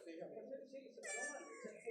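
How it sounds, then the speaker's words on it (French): A cat meows outdoors in a drawn-out, wavering series of cries lasting under two seconds, fairly close, with a voice talking alongside it. "tu n'es pas mon chat"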